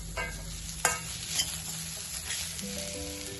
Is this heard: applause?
no